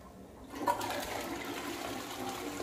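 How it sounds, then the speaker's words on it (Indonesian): Toto seated toilet flushing: a sudden rush of water starts and keeps gurgling and draining steadily, moderately close, with no talking over it. "Ini kita coba flush"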